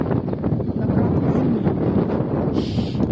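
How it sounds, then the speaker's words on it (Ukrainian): Strong wind buffets the microphone in a steady low roar, loud and close, with no voices. "вітер, вітряно дуже сьогодні буде"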